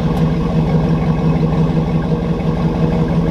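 A 2008 GMC Sierra Denali with a 6.2L V8 and a Flowmaster Super40 exhaust runs after a cold start, a loud, close, continuous low exhaust rumble.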